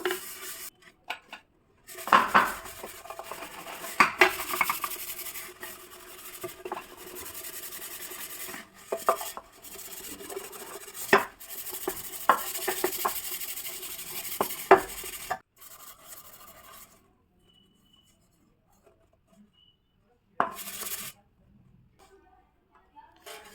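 A brass pot is scrubbed by hand to clean it, giving close, uneven bursts of scraping and rubbing with small metallic clinks. The scrubbing stops into near silence and resumes briefly at the end.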